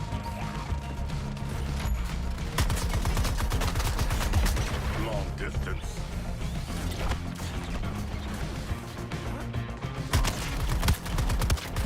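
Sustained gunfire in Suicide Squad: Kill the Justice League, with rapid automatic bursts and crashing impacts over a dense, booming game soundtrack, running nearly continuously and loud throughout, with a voice faintly beneath.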